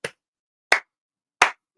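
Three separate hand claps, loud and sharp, spaced evenly about 0.7 seconds apart with silence in between, in a cartoonist's art studio.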